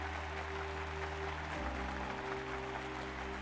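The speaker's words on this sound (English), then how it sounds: "Clap, clap, clap, clap, clap, clap, clap, clap." Applause in the video game Final Fantasy XIV Dawntrail, a soft patter of clapping that stays faint beneath steady background music.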